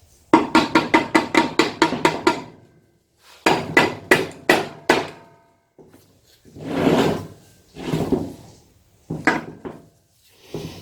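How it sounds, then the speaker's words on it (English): Rapid bursts of sharp hammer taps on the metal crankcase of a Briggs & Stratton engine as it is split apart, followed by scraping, grinding bursts and a few more clustered knocks, close and loud with pauses between. "Ooh, that satisfying noise of a crankcase splitting."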